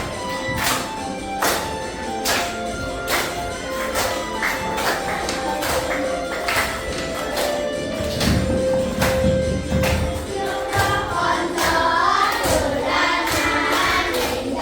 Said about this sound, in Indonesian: yuk boleh kalian tepuk tangan joget-joget boleh